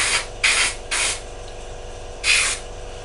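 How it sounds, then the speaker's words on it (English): Airbrush hissing as white paint goes lightly onto a scale model's intakes, three short bursts in quick succession then a pause before a fourth, close and fairly loud. "all we're going to do is try lightly airbrush this up the intakes"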